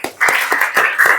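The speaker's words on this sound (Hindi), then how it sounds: "उनके लिए जोरदार तालियां" Hands clapping in a few distinct bursts at a coaching center prize event for three girls, close and fairly loud, with short gaps between the claps.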